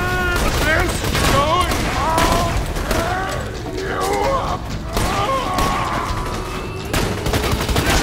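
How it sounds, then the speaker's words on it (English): Shotgun fire from a Jakobs weapon in the video game Borderlands 2, a dense burst of loud blasts and booms layered under near constant excited talking and game effects. "That's a Jacob shotgun."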